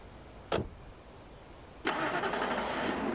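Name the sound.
car engine starting in the video game Alan Wake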